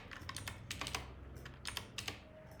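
Soft, close keystrokes on a computer keyboard while code is written, quick irregular clusters of taps with short gaps, quiet and unaccompanied by talk.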